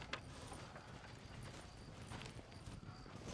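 Horse hooves in Red Dead Redemption, a quiet, fairly constant clip-clop trotting rhythm with faint mechanical creaks like a wagon nearby.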